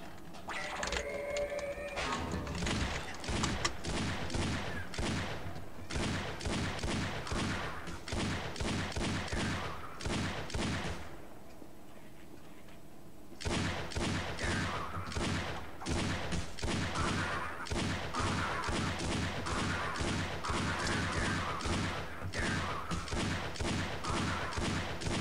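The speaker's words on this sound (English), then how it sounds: "Simply because he kept firing." Sustained automatic gunfire from a non-player character in the game Half-Life: Echoes, rapid shot bursts for about ten seconds, a brief pause, then another long unbroken volley, loud and close.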